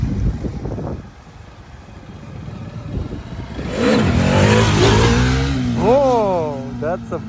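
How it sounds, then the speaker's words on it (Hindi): KTM RC motorcycle with an aftermarket exhaust revving nearby outdoors: after people talk at first, a loud throaty roar builds, followed by a few quick rising revs near the end. "इसका एग्जॉस्ट बहुत अच्छा है यार।"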